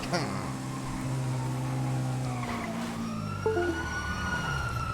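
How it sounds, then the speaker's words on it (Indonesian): An ambulance siren in the video game GTA wails with rising and falling tones, fairly close and loud, over steady traffic rumble. "Itu ambulan. Ada ambulan kayaknya tuh."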